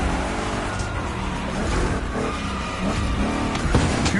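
Chevrolet big-block race car engines in the video game The Crew 2 Motorfest roar loudly and continuously, with rising revs and brief tire noise, close to the listener and with no talk.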